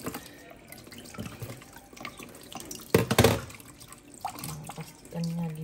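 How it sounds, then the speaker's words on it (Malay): Tap water runs into a kitchen sink during cooking prep, a faint, uneven trickle and splatter with a brief louder gush in the middle and a few soft clinks around it. "biarkan air dan mengalir"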